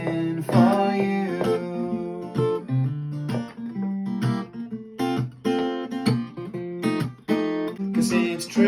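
Acoustic song played on a Takamine G series acoustic guitar, with strummed chords and sung vocal melody with harmonies, steady and fairly close throughout.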